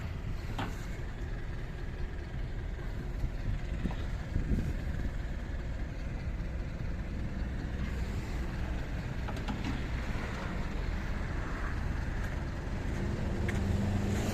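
A Kubota Saturn X20 Japanese mini tractor with a four-cylinder, 20-horsepower engine runs at a steady idle, a continuous low rumbling drone that stays even throughout.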